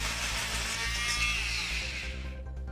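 A Bosch PMF 250 CES oscillating multi-tool cuts through a nail sticking out of wood, making a loud, steady, close buzzing grind that holds for about two seconds before the high rasp fades as the cut ends.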